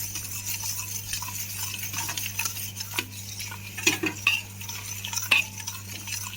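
Cardamom powder being stirred into sugar syrup in a pot: soft, irregular scraping and light clinks of a spoon against metal, close by over a steady low hum, with no speech.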